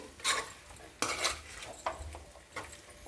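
Chickpeas are stirred into chicken curry in a pot, giving a few distinct scraping and clinking strokes of a spoon against the metal, with quieter gaps between them.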